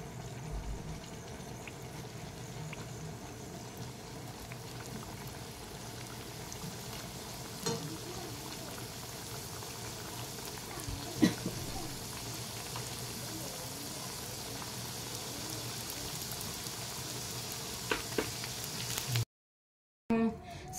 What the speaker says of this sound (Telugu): బాండ్లి పెట్టుకొని ఆయిల్ వేసుకున్న తర్వాత ఇవి ఇట్లా కాల్చుకోవాలి.